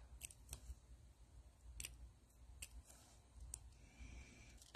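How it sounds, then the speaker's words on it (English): Small scissors snip through a cardstock ribbon strip, several sharp separate cuts spaced irregularly and heard up close in a quiet room. "I'll just take my little scissors and just cut that like so"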